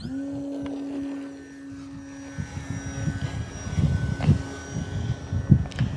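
A STOL model plane's engine, on a 1.3 m Arrows Bigfoot, whines steadily and then opens up to full throttle, a louder, rougher roar with pulsing bursts as it takes off, heard close by.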